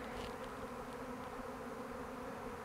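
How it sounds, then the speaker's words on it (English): A swarm of agitated honeybees fills the air near a tree with a steady, dense buzz, soft and continuous with no voices. "I don't know why there's so many upset bees in the air"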